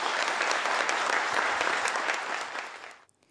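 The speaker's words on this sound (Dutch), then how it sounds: "alvast een groot applaus" A crowd applauds steadily with dense clapping, which fades out near the end into near silence.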